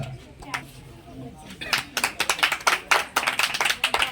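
Children at a birthday celebration break into a burst of clapping that starts quietly and then swells into dense, loud applause in fast irregular bursts, close by.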